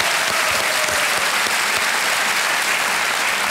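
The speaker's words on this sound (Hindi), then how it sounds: "एक बार फिर तालियों के साथ इनका स्वागत" A television quiz show studio audience breaks into loud, sustained applause, dense clapping that holds steady throughout.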